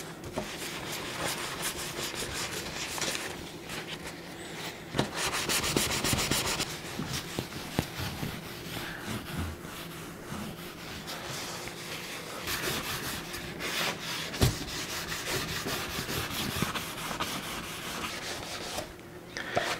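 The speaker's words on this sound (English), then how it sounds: "I'm just going to hand rub it into the holster now and on all the other pieces." A hand rubs a satin-sheen finish into a leather holster, making a continuous, close, soft scuffing and rubbing sound in steady back-and-forth strokes for the whole stretch, with no talking.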